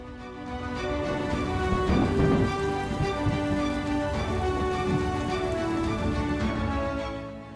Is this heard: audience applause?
no